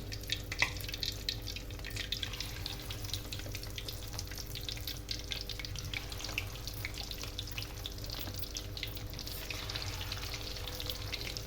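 Fish pakora pieces fry in hot oil over high heat, giving a continuous crackling sizzle with scattered pops, steady and close throughout.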